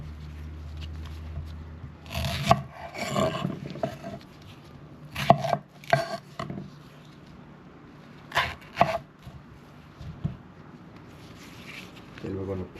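Knife chopping green plantain into three pieces on a board, a handful of separate firm thuds spaced over several seconds, with a voice speaking in between.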